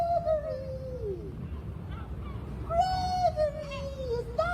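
Ghostly high voice in a haunted radio drama, a wavering, seagull-like wail made by a voice imitating the cry. It sounds twice, each a long falling call, over low background rumble, fairly near.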